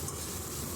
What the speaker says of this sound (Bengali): এবার হচ্ছে সবগুলো মশলা আগে ভালো করে ভেজে নেব